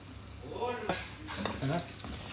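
Food frying in a pan on a home stove, with a steady sizzle and scraping stirs from a spoon or spatula running through the short stretch.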